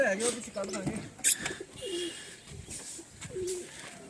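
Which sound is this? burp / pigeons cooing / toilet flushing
pigeons cooing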